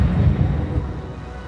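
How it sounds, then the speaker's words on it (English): Deep, loud thunder rumbles through a storm, a sustained low roar that slowly fades. "Hotter summers, intense storms and torrential rains."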